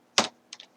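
A few computer keyboard keys pressed for an Excel shortcut: one loud clack followed by two or three quicker, lighter taps, close and alone.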